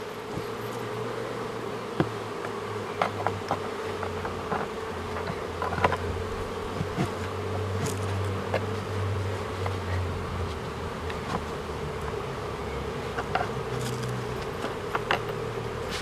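A steady drone of a 10-day-old bee swarm in a tree hollow fills the scene, close and continuous, with occasional small clicks and knocks mixed in.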